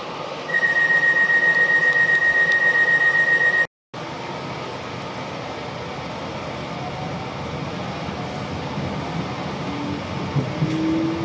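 A DART commuter train, unit 8520, runs from Dublin Connolly to Malahide with a steady rumbling drone, briefly dropping out before resuming; a high tone whines over the noise early on.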